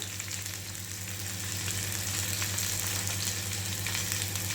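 Potato cubes frying in a hot pan with curry leaves while preparing fasting-style samo (vari) rice, a steady close sizzle that swells slightly louder partway through, with no talking.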